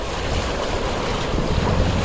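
River water rushes and churns against a jeep during an off-road crossing of a swollen river near Jim Corbett National Park, a steady, loud, close roar of surging water and wind with no voices.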